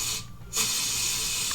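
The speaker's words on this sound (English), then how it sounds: "Aerosol can." An aerosol can sprays a steady, close hiss, briefly interrupted, then resuming in a continuous burst with no talking.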